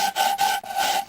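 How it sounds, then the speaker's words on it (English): A large hand file rasps back and forth across a metal part of a 1937 Maytag model 72 engine under repair, three or four close, loud rhythmic strokes with brief pauses between them; no talking. "you use the biggest file that you got that will reach all the way across it"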